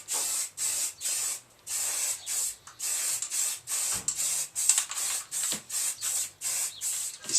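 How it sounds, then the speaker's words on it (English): Primer is sprayed from an aerosol can onto a Harley 883 Iron belly pan in a garage, close-up bursts of hiss, about a dozen short evenly spaced sprays with brief gaps between them. "This is cooled down now, so the primer's going on wet."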